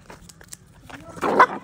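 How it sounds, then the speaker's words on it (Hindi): A street dog being fed roti lets out a single short bark near the end, after a stretch of soft, indistinct rustling and low sounds nearby. "देखियो आब हम तो कोनो कुत्ता पोस नहीं रहल छी, स्ट्रीट डॉग सबके खुआबै छियै"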